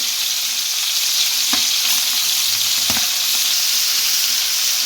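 Marinated chicken for chicken Mughlai fries in oil in a pan over a high flame, giving a loud, steady close-up sizzle with two brief knocks partway through and no voices.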